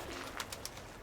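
A few brief bird calls, faint and distant, over a steady background hiss, near a pigeon loft.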